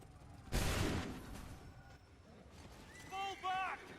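A musket volley from the game Assassin's Creed III sounds as one loud, sharp crack that decays over about a second, followed by quieter battlefield ambience and faint voices.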